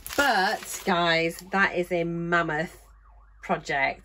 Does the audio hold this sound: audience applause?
no